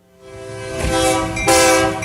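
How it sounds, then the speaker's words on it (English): Train horn sound effect played on a live Mississippi radio show, a loud sustained chord-like blast that swells in, briefly dips, then sounds again even louder and holds to the end. "Where's the train?"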